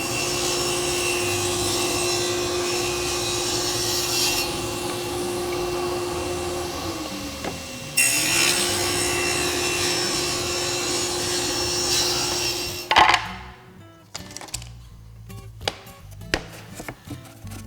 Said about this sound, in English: And my next cut, all I have to do is come against the stop